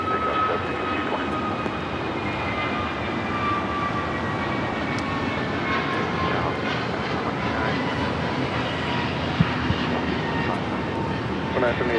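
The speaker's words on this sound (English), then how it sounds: "Takeoff is American Airlines 2307, taking off to Philly on the A321 Neo." An American Airlines Airbus A321neo jet takes off at LAX, its steady engine roar holding loud and constant throughout with a faint voice talking beneath it.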